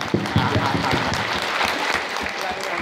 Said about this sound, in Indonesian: Mohon tepuk tangannya keras sampai tangannya sakit.